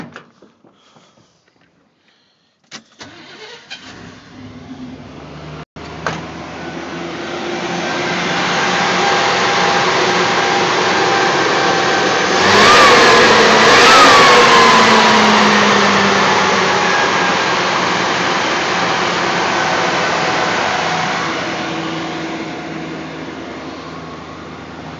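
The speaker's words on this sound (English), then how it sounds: "Let me just start the truck up." A Chevrolet Suburban truck cranks and its engine catches, then settles into a steady running hum with a whirring fan, loud and close, rising slightly and holding for about twenty seconds.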